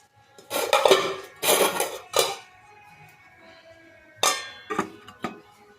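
A metal lid set onto a cooking pot of shukto vegetables with a few close clattering clanks and scrapes, then a quiet pause before two more brief knocks of metal on metal.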